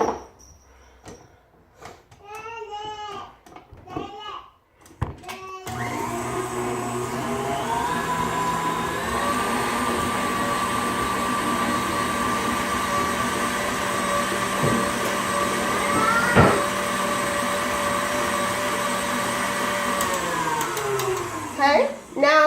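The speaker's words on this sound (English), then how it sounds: "Then we're going to be mixing in the brown sugar" Electric mixer whirring steadily as it beats brown sugar and granulated sugar into mint chocolate chip cookie dough, a loud sustained motor hum that winds down at the end, preceded by someone talking.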